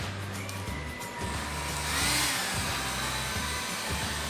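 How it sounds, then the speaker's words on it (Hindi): A hair dryer blows on hair, giving a loud steady motor whir with a pulsing low hum that dips as the dryer moves, with no talk. "so now with the help of this hair dryer हम इसे ब्लो ड्राई करेंगे"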